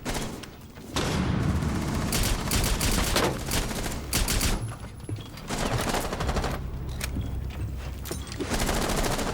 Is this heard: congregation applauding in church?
no